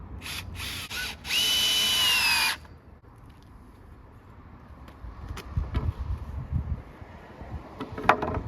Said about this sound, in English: I'm starting off with screwing the leg to the side piece that'll be under the workbench top itself.